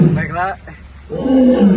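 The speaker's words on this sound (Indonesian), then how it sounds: "Singa Afrika." An African lion at a zoo roars in a short, loud, guttural burst that fades, followed by a second rumbling roar, close by.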